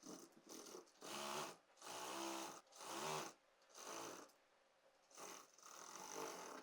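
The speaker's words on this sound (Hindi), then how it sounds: "अब यहाँ से हम स्लीव्स की फिटिंग लगा देंगे। कॉर्नर पे स्टिच को लॉक कर देना है।" An electric sewing machine stitches and locks the corner of a halter-neck kurti sleeve, running in five or six short, loud bursts separated by brief pauses.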